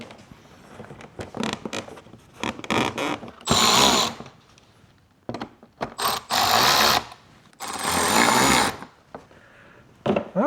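Power driver running screws into the door armrest of a 2006 Chevy Silverado, three loud sustained whirring bursts amid scattered clicks and handling knocks, close up.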